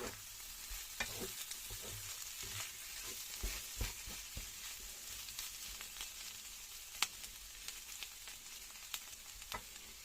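Potatoes frying in a steel non-stick pan with a honeycomb coating, a steady quiet sizzle with frequent short scraping and stirring clicks from a utensil.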